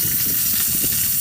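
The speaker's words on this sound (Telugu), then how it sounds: "మళ్ళీ గంజి అనేది స్టవ్ మీద పెట్టుకొని ఆయిల్ పోసి ఆవాలు జీలకర్ర 5-6 ఎండుమిరపకాయలు" Mustard seeds, cumin, dried red chillies and curry leaves sizzle in hot oil on a stove for a gongura pickle, a steady close crackling sizzle with soft popping throughout.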